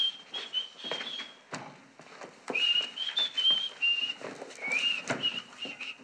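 A person whistles a bright, cheerful melody indoors, a run of quick high notes and short phrases carrying on for several seconds, close and clear with faint room noise beneath.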